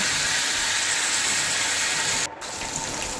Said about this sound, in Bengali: আস্তে ধীরে ভালো করে নেড়ে এটাকে ভেজে নেব